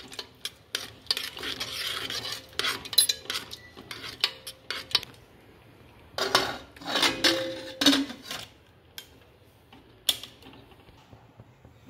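A spoon scrapes and clinks against a metal pot while peas are stirred with turmeric and a spoonful of oil, giving close, irregular bursts of clattering and scraping separated by short pauses, with no talking.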